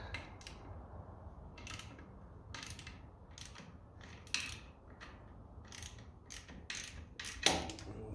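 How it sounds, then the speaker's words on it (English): Socket and spanner loosening half-inch bolts on a 1957 Ferguson FE 35 TVO tractor: several short metallic clicks and ratcheting taps spaced irregularly, fairly faint over a low steady hum, with no talking. "Socket in there, spanner in there, and we'll give them a loosen."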